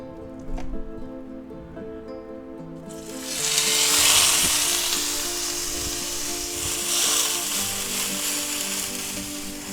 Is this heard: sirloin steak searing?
yes